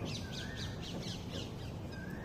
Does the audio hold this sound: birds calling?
yes